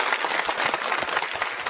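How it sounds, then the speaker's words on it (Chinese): A studio audience at a televised singing talent show breaks into warm applause, dense overlapping claps filling the short moment steadily and close, with no talk over it. "给她掌声"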